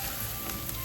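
Eggs mixed with onions frying in a pan for noodles, giving a brief, steady hiss and sizzle with no talk.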